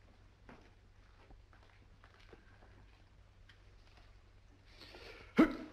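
A single sharp sneeze bursts out near the end after a stretch of quiet room tone, loud and close.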